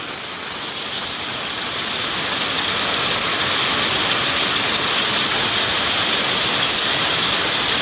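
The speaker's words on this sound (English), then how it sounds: "Actually starting to get some spray from rain falling onto surfaces half a metre below me." Heavy rain pours steadily onto surfaces about half a metre below during a UK summer storm, a dense, loud, continuous hiss that swells slightly after the first couple of seconds, with no voices.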